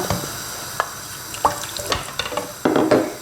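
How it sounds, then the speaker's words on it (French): A small glass of water with diluted tomato paste poured into a cooking pot of lentils and beef, a brief splashing pour near the end after a few scattered clinks, close and clear. "Je rajoute dans la marmite l'équivalent d'une cuillère à soupe de concentré de tomate dilué avec un petit verre d'eau"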